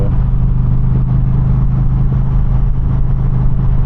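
The Freedom Performance exhaust on an Indian Challenger motorcycle idles with a steady, low, throbbing burble that stays even and close throughout.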